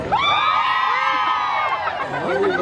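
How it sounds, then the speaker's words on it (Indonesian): Crowd at a school marching band parade competition for SDN 2 Kota Bima, a continuous close wash of cheering and shouting voices with children whooping, loud and sustained throughout with no pause. "Tepuk tangan yang paling meriah buat SDN 2 Kota Bima"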